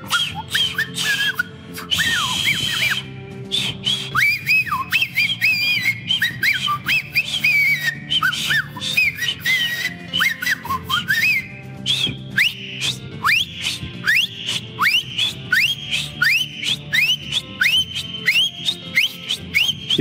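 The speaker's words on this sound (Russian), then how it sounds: "Глаза в глаза, соревнуйтесь в свисте." Loud competitive whistling from people facing off on a big TV show stage, a rapid series of rising and falling whistled notes repeating densely, growing more rhythmic and insistent toward the end.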